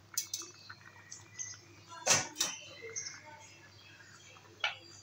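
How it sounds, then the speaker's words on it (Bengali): Metal lid lifted off a pot of lentils and vegetables simmering on a gas stove: a few sharp clinks and a louder double clank near the middle, then a last light tap, with quiet kitchen hum beneath. "এবারে ঢাকনাটা খুলে দেবো।"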